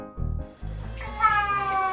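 A cat meows in a bathroom, a drawn-out two-part cry resembling a phrase meaning 'I want out', close and clear, with running water faintly in the background.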